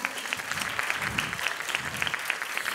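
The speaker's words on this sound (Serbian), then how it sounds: "molim aplauz za kolegu" A short burst of audience clapping for a contestant at a Francophone song contest in Niš, an even, moderately loud patter of many hands with no voices.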